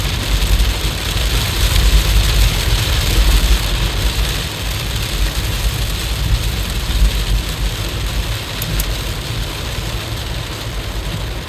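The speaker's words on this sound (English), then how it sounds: "it's raining hard" Heavy rain drums on a moving car, a loud, dense, constant wash of patter mixed with low road and engine rumble from inside the cabin, with no talk over it.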